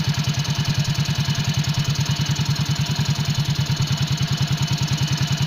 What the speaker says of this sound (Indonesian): Kita hidupkan mesin